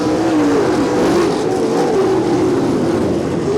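Winged sprint cars race around Champaign Speedway's dirt oval in a POWRi WAR Sprint Car League feature, engines roaring loud and continuous with a wavering, shifting pitch as the cars come off the turn.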